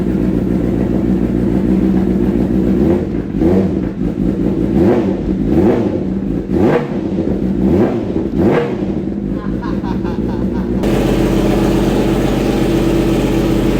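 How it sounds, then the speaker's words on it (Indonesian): Police-spec Kawasaki Ninja H2 motorcycle with an aftermarket ECU, parked and blipped in a series of sharp, loud throttle revs that climb and drop repeatedly, then settle back to a steady low idle drone, close to the microphone. "Nih kita coba gas-gas ya."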